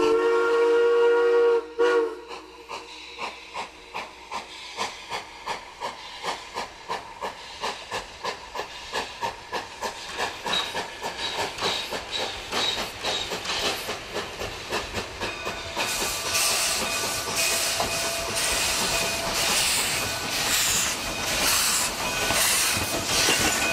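Steam locomotive pulling away on a winter excursion train bound for Durango: a shrill whistle, then loud rhythmic chuffing that quickens steadily, ending in a broad roar of hissing steam.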